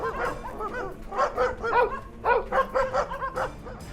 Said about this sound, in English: barking like there's no tomorrow.